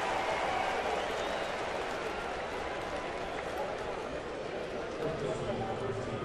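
Baseball crowd in a ballpark cheering and applauding for the first out, a steady, dense roar of many voices and claps that holds throughout.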